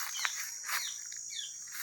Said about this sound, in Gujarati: મોર બોલી રહ્યા છે